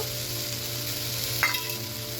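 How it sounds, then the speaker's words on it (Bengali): Potatoes and spices fry in a pan with a steady, even sizzle, and one brief scrape of stirring rises midway. "মশলাটা দিয়ে আলু দিয়ে ভালো করে কষাচ্ছি"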